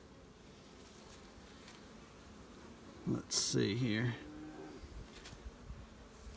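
A faint, steady honey bee buzz hums in the background during a February hive check while a person speaks a short phrase up close.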